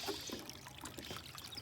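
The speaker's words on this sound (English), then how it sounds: "Sounds like somebody taking a leak." Water trickles steadily outdoors in the woods, a faint continuous dribbling like someone urinating, heard alone at low level with a soft background hiss.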